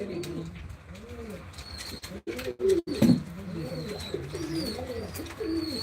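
Racing pigeons coo steadily at a home-loft pigeon match, their soft rounded calls layered and overlapping, with a brief burst of flapping or handling noise midway and no talk.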